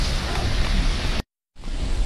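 Heavy rain pouring during a flood, a dense continuous hiss broken by a short silent gap before resuming.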